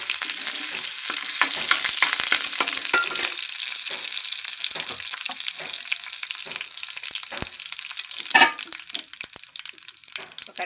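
Dried red chilies and curry leaves fry with popped mustard seeds in hot oil, crackling and sizzling up close with sharp spits and stirring scrapes, a louder burst flaring near the end.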